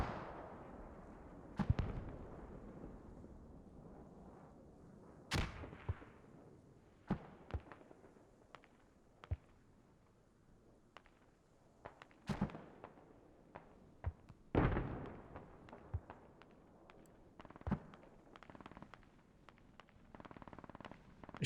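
Gunfire and explosive reports in the tactical shooter game Squad, including machine gun fire: scattered sharp bangs and short bursts at irregular intervals, some near and loud, others distant and faint, over a quiet background without talk.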